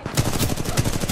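Rapid automatic fire from the R101 rifle in the Titanfall 2 shooter game on the Colony map, a loud, close burst of evenly spaced shots lasting about a second.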